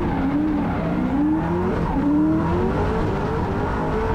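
A drift car at a French drifting championship round at Val d'Argenton, its engine revving high and rising in pitch while the tyres squeal steadily, loud and close for the whole stretch.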